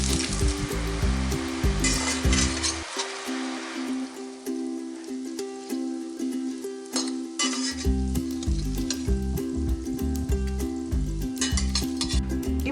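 Cauliflower florets deep frying in hot oil for gobi manchurian, a steady crackling sizzle running throughout, with a low rhythmic pulsing hum underneath that briefly drops out in the middle.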